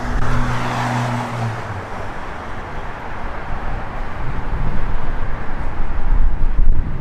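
A 1969 Chevrolet Camaro engine with 2.5-inch Flowmaster mufflers and an H pipe rumbles loudly and steadily, a deep exhaust drone that swells over several seconds, with no voices.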